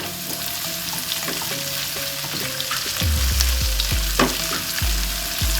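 Chopped green chillies sizzle hard in hot oil with grated garlic. The frying is steady and close, with stirring clatter throughout and a louder burst of sizzling partway through. No voices are heard.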